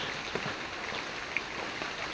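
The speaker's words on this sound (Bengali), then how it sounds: "বৃষ্টিটা একটু কমলে তারপরে রান্না করবে আর কি।" Steady rain falls outdoors, a soft continuous hiss with occasional sharper drops pattering on a surface, fairly faint and uninterrupted by voices.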